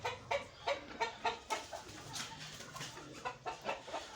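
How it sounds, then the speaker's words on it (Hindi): Pet pigeons in a coop give repeated short, throaty calls in a regular pulsing rhythm, fairly close and soft, with a few muffled bumps in between. "ये माशाल्लाह हमारे कबूतर हैं"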